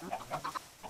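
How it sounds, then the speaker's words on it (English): Chickens in Minecraft give a handful of quick, close clucks in short bursts, spaced unevenly over a second with no talking. "Crazy chickens!"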